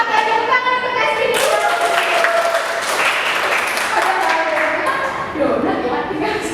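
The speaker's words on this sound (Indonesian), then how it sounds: "Oke, tepuk tangan untuk Kasti." Classroom students clapping together, a dense patter of many hands that rises and keeps going for several seconds, with voices calling out over it.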